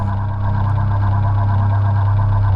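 A vehicle engine runs steadily in the strategy video game Original War, a continuous low idling drone with an even rumble and no gaps.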